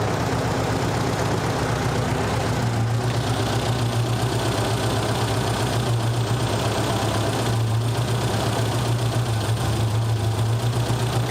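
A Nissan 200SX engine idles at low RPM in a garage, its steady, close rumble pulsing evenly throughout with no voices over it.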